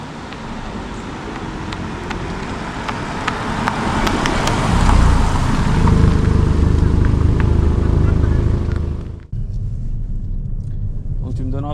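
A Hyundai i30 N Fastback is driven, heard from inside as a loud continuous engine and road rumble that swells through the middle, then drops abruptly near the end before settling into a lower drone.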